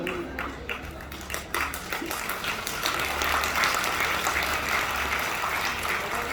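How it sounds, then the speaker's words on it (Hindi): Audience at a religious discourse breaks into applause, dense clapping that swells and holds steady for several seconds, fairly loud and continuous with no clear speech over it. "तुम तालियां भी नहीं बजा सकती हो।"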